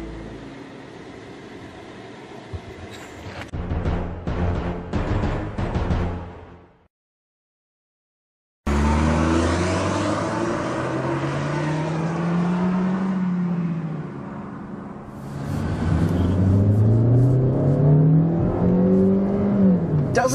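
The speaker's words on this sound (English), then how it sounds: "And now it's time to get a quick driving impression of the Kia Forte!" A Kia Forte (K3) engine while driving, heard from inside the car. It rises and falls in long, smooth revving sweeps that are loud and close, with a brief silent gap before them.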